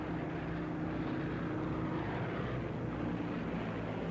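A P-51 propeller-driven warbird drones steadily overhead, its engine and prop producing a continuous low rumble at moderate distance with no talk.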